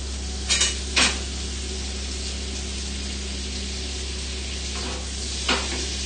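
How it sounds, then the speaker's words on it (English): Butter and sugar melting in a pan on the hob, with a low steady sizzle and a few short scraping stirs or clinks of a utensil against the pan early and near the end. "I'm just going to give it a little stir, just a little stir together, just to mix the sugar and the butter"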